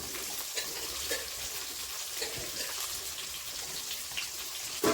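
Dried chili and curry leaves crackle and sizzle steadily in hot oil for a Kongu-style country chicken chili curry, a dense continuous frying hiss close by with no voices.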